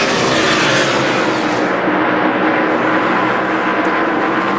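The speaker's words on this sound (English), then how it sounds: "He picks the revs up on the motor and screams off pit road" A stock car engine screams loud and close as it revs up and pulls off pit road at the 2002 UAW-GM Quality 500, a dense roar filling the whole stretch.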